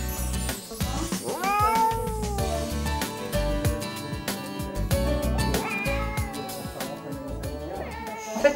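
A cat, handled during a home veterinary visit, meows repeatedly in drawn-out, rising and falling cries, close and fairly loud, over a busy background clatter.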